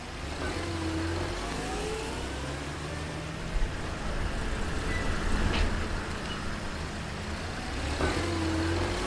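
A car drives steadily along a road, its engine a continuous close rumble with a faint whine rising near the end, and no voices over it.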